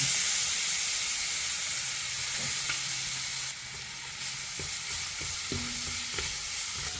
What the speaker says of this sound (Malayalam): ഇത് നമ്മുടെ ആ നെയ്യിലേക്ക് ഒന്ന് ഇട്ട് കൊടുക്കാം